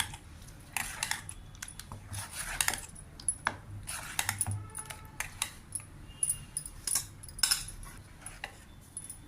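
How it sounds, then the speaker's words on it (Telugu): A spoon stirs wheat rava dosa batter mixed with three green chillies and finely chopped coriander in a bowl, giving irregular close clinks and taps against the side, with no talking. "సన్నగా తరిగి పెట్టుకున్న కొత్తిమీర తురుము బాగా మిక్స్ చేసుకోవాలి"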